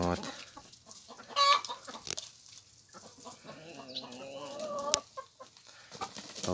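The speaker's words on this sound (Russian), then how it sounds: "Вот такие курочки у нас молодые сегодня прибыли." Young hens clucking softly at close range, with scattered short calls and rustling over a quiet background.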